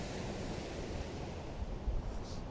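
Sea waves surge and crash through a rock gap at Hedbury Point on the Isle of Purbeck, Dorset, a steady broadband roar of surf with a few heavier thumps toward the end, mixed with some wind.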